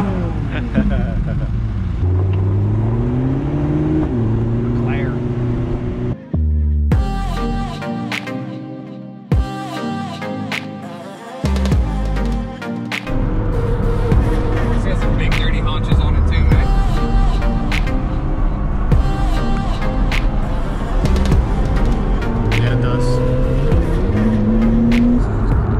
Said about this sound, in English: First time ever in a McLaren.